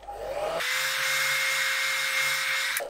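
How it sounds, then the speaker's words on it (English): A hair dryer runs on a high or medium heat setting while a beard is combed, its steady loud blowing roar with a fixed motor whine starting abruptly and holding for nearly three seconds before cutting off. "And then I use a comb and a high or medium heat setting on my hairdryer."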